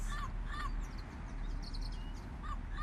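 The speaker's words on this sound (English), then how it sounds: "listen to the birds and the parrots" Harsh squawks from several wild parrots ring out in a park in the morning in short repeated calls, moderately close, over a steady background rumble.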